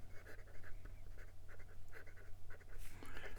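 A Pininfarina PF Two fountain pen with a medium nib and bright blue ink scratches across paper nearby, quiet rhythmic strokes in short bursts.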